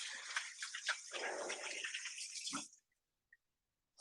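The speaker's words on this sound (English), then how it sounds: "give my hands a wash" Running tap water splashing over hands at a kitchen sink, a close, fairly quiet hiss and splatter that stops abruptly, followed by a couple of faint drips and clicks.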